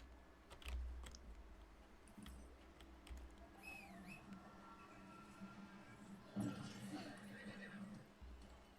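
A horse whinnies faintly in the game New World amid soft game sounds and light clicking, with a brief thump partway through; the sound is quiet and slightly distant.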